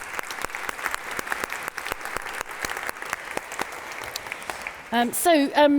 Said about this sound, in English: I'd like to give a round of applause before we start to Phil Randerson, CEO of HotTopics